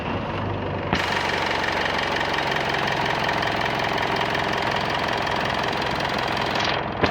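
A 2015 Mitsubishi Montero with a P0642 sensor reference voltage low fault starts after a second of quiet, then settles into a steady, loud, close diesel-like idle with a constant knocking rumble, cutting off near the end.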